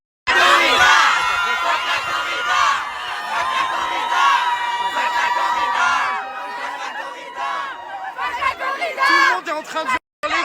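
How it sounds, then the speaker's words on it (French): A large crowd outside the courthouse in Nîmes shouts and chants loudly in unison, dense overlapping voices surging in waves before a brief drop near the end. "En train de hurler fuck la corrida"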